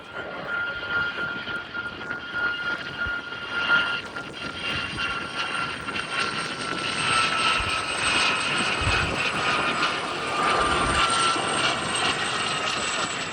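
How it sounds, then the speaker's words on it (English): A Gazelle helicopter flies away toward the left during a display at the Abingdon Air & Country Show at Dalton Barracks, its steady rotor and turbine roar holding at a moderate, fairly constant level with faint voices in the background. "The helicopter I was just talking about is the one heading off now towards the left."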